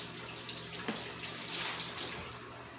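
Tap water runs steadily into a sink while broad beans are washed for a Jamaican-style stew, a fairly close, continuous splashing rush with no talking.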